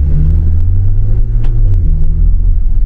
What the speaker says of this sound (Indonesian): ini suaranya dia knalpotnya smooth, bulat